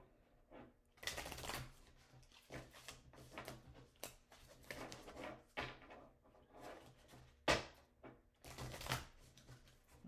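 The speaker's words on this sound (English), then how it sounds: "Let's shuffle a couple times." A new tarot card deck is shuffled in quiet, irregular bursts of riffling and rustling, with soft taps between them, close and intimate.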